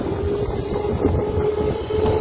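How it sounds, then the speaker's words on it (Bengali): A Bengal local train on the Bandel to Barddhaman line pulling out of Magra station, heard from on board as a loud, close rumble of wheels and carriage rattle with a faint steady whine, no voices. "একদম সঠিক সময়ে মগরা থেকে ছেড়ে দিয়েছে আমাদের ট্রেন"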